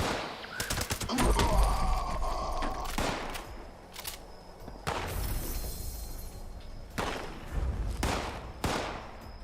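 Enemy gunfire in Fallout 76 during the Treasure Hunter event: sharp bursts of shots and rapid automatic fire in clusters, with heavy booms and gaps between volleys, fairly close and mostly without talk.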